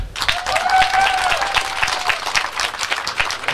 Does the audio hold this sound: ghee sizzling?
no